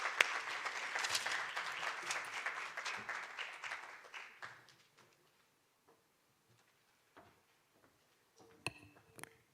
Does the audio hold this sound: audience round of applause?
yes